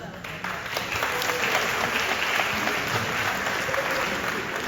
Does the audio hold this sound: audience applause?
yes